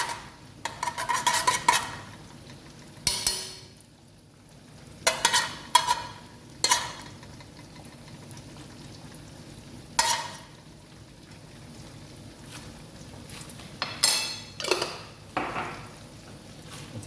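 A spoonful of mustard ghee goes into a pot for biryani; separate metal scrapes and clanks of stirring come in bursts over a faint, quiet sizzle.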